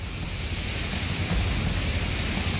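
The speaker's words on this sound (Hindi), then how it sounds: "मुंबई में भी तेज हवाओं के साथ बारिश शुरू हो गई है" Heavy rain with strong winds in Mumbai, a dense, steady roar of downpour and gusts that fills the whole clip without a break, loud and close, with no voices.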